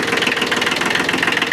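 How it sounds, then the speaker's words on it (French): A Kubota B7100D tractor engine idles close up, its steady, even knocking pulse running without pause and with no voices over it. "Le ralenti est plutôt régulier."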